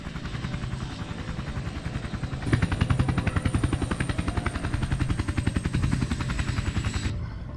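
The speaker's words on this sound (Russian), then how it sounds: "Вертолет на земле." A helicopter in the video game Sniper Ghost Warrior 2 sits on the ground with a steady rapid rotor chop and engine drone, getting louder and denser partway through before cutting off near the end.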